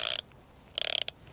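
A fishing reel's drag is loosened while fishing from the marina at Brighton, giving two short bursts of rapid ratchet clicking, close and crisp, separated by a quiet pause.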